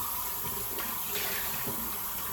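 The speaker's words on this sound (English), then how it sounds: "Now I'm just rinsing out this bowl, cleaning my hands off a little bit." Running water splashes steadily as a shaving bowl is rinsed out under a tap, a soft continuous wash with no talk.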